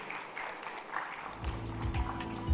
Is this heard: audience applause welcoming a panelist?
yes